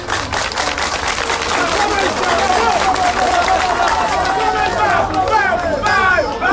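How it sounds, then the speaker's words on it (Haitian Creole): Audience at a gathering welcoming a president applauds a project, steady dense clapping with crowd noise and cheering throughout, voices rising in the background near the end. "Nous demandons à tout le monde d'applaudir ce projet."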